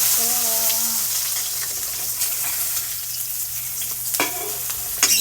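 An egg fries in a hot salted pan with a loud, steady sizzle, close up, with a few sharp clatters near the end.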